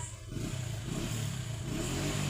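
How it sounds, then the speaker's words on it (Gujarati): A motorcycle engine runs continuously with a steady low rumble and mid-range drone, fairly close, with no speech over it. "આ બાઈક નો અવાજ તો આવે છે"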